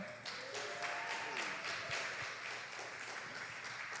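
Audience applause at a ChiBrations event called The Portal, a steady wash of clapping held for about four seconds at moderate level, with faint voices and cheers mixed in.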